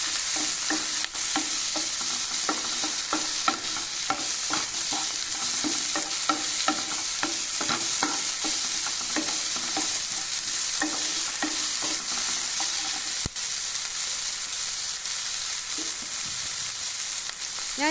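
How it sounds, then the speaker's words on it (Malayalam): Onion and tomato frying in a pan for tomato chutney, a constant sizzle under repeated scraping and stirring strokes of a spatula, steady and close, with no talking. "ഇനി തക്കാളി ഒന്ന് വെന്ത് വരുന്നവരെ നമുക്ക് ഇളക്കി കൊടുക്കാം."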